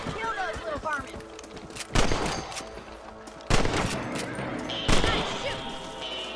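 Gunshots from a rifle in the video game Red Dead Redemption, fired at rabbits while hunting: three loud, sharp cracks spaced about 1.5 seconds apart, each with a trailing echo, over ambient game sound and a brief voice early on.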